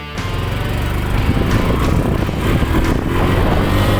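A 2021 Honda Wave110i motorcycle engine with a faulty cam chain tensioner idles steadily and loudly nearby, a constant low rumble with slight fluctuations throughout.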